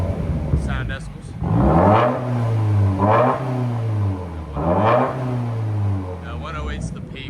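Loud, close revving from a 2017 Subaru WRX 2.0L turbo with straight pipes and mid and rear delete: three sharp throttle pulls climb and sink back to a throaty idle, with light clicks between.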